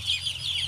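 Broiler chickens on a farm clucking in a short, close burst of overlapping calls over a low steady background hum.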